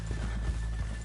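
Horse hooves from the video game Red Dead Redemption 2 clip-clop in a few quick, close steps over a low steady hum, with a faint whinny-like tone.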